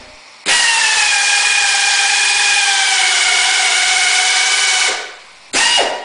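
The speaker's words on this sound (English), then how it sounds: "So I got my drill started," An air drill whines at a steady high pitch for several seconds while drilling a block of wood for a knife handle, winds down, then starts up again briefly, loud and close.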